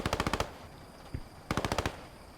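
Machine gun fire in the WWII shooter Post Scriptum: two rapid bursts of about seven shots each, with a single thump between them and faint background noise.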